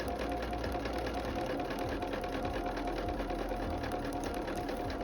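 A sewing machine runs steadily through a quilt block seam, its close, even mechanical whir and rapid needle clatter continuing without pause for the whole stretch.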